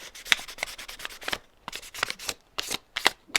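A plastic violin peg, a Wittner Finetune peg fitted out of a cello, is rubbed with special abrasive paper in quick rasping strokes, about a dozen short bursts in two runs, close and fairly loud with no talking.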